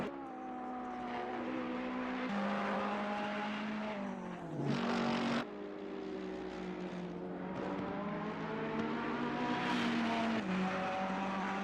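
A GT3 race car in a racing video game at the Hungaroring, taking the chicane and running over the curbs. The engine drones loud and steady throughout, its pitch rising and falling with gear changes and revs.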